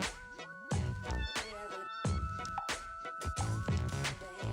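A cat meows repeatedly in a dating sim video game, a quick string of clear, close mews with no talk over them.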